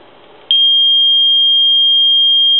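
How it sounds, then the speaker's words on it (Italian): A steady, piercing electronic alarm tone from emergency dispatch software switches on abruptly after a brief quiet moment and holds loud and unbroken to the end. "Caso peggiore, ci sono due allarmi quasi contemporanei."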